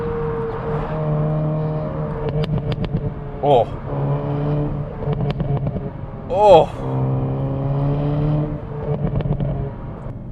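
A 2022 Hyundai Kona N SUV's engine revs hard through its exhaust, rising and falling with sharp bursts and crackles, while a voice exclaims briefly over the noise.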